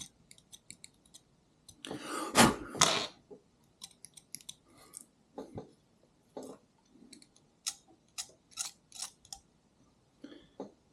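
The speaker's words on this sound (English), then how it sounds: "you're going to have to scrape some of the enamel off for soldering" Quiet, irregular scratching and clicking as a blade scrapes enamel off thin copper wire, in short bursts with one longer rasping stretch near the start.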